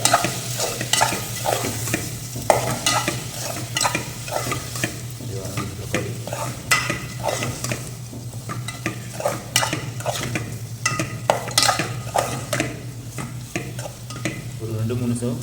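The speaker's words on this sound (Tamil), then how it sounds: "தக்காளி இது அப்படியே வதங்கட்டும்." Tomatoes sautéing in a pan for garlic kuzhambu, with a continuous close sizzle under steady, rhythmic spatula scraping and stirring.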